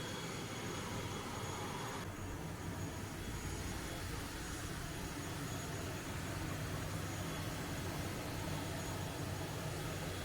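Steady, loud engine drone from a twin-engine propeller airplane, a continuous broadband roar with no pauses.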